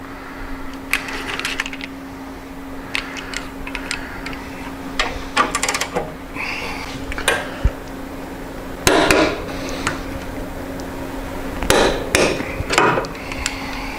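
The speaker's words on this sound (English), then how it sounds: "I'm going to torque these 2 bolts 63 to 70 foot-pounds." Rear reservoir shock bolts on a performance bagger motorcycle are torqued to 63-70 foot-pounds, heard as scattered sharp metallic clicks and ratchet ticks at close range over a faint steady hum.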